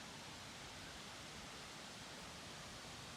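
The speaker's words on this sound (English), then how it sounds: "through the trees up here we can hear it, but it's hard to see, is the main waterfall" A distant waterfall in a wooded nature preserve, heard through the trees as a steady, faint broadband rush of falling water that holds even and unbroken throughout.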